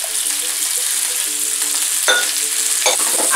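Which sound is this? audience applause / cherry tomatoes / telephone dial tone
cherry tomatoes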